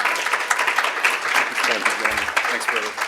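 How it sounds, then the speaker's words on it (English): An audience applauds at a Global Accessibility Awareness Day event, steady clapping mixed with overlapping talk from the room. "round of applause"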